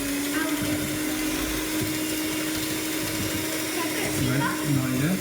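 Cupcake batter being beaten with an electric mixer in a home kitchen, a continuous steady motor whine with rattling of the bowl, loud and close, with brief talk over it near the end.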